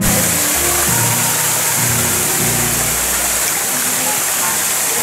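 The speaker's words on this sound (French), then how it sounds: "nous arrivons à la cascade de Payitou. Chute de 40 mètres." The Payitou waterfall, a 40-metre drop near Vic-sur-Cère, roars as a constant, heavy rush of water, with some low rumbling underneath.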